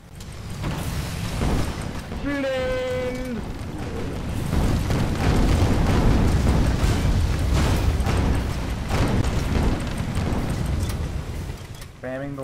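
Cannon fire and explosions in the airship combat game Guns of Icarus Online, a dense, continuous roar of booming blasts and mechanical clatter running under voices and chatter throughout.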